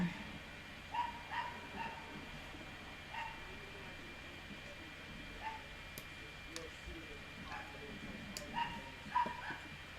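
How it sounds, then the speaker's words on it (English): A dog barks outside an open window, sounding distant and faint, with repeated short yips and barks spread across the stretch and soft background noise between them. "there's a dog barking, and you'll probably be able to hear it."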